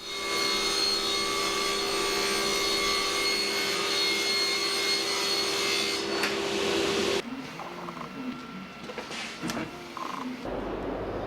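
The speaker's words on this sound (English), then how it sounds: "I cut 3 doors from 18mm MDF" A power saw whines loudly and steadily through 18mm MDF board, then cuts off, leaving quieter scraping and handling noises.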